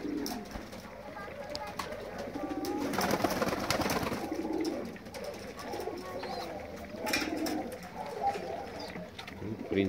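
Pigeons cooing in a loft, low soft calls repeating through the clip amid background chatter and ambient noise, with a busier stretch around the middle.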